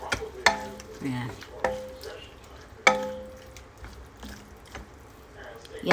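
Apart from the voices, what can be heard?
shrimp stir-frying in a pan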